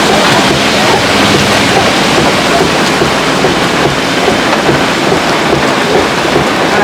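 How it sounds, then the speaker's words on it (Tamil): Heavy rain pours loudly and without a break, a dense roaring wash close to the microphone with rough low rumble. "மழை அதிகமா வருது."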